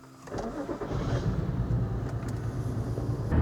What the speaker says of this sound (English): I'm gonna take the car for a test drive now.